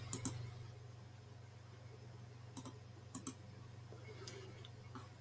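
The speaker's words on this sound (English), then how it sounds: "I'm right clicking with my mouse and I'm just going to click undo." A computer mouse clicks a few times while a website is being edited in WordPress, sharp faint double clicks spaced out over a low steady electrical hum, close by with no talking.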